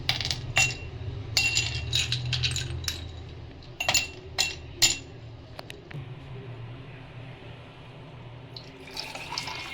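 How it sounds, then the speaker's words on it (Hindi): Ice cubes clink and rattle into a glass for chilled fennel sharbat, several sharp knocks in the first half, then a quieter stretch with faint trickling. "तो सबसे पहले मैं डालूँगी आइस क्यूब"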